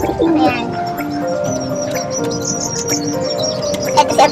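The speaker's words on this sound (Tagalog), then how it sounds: "Ito nga pala yung kalapati natin." Racing pigeons coo and call softly in a loft or carrier crate before a training release, a steady murmur of several birds close by with occasional brief flutters, no talking.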